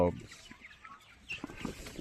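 Scattered soft clucking from 26-day-old Tiger chickens nearby, brief and uneven, with faint background noise and no clear voices.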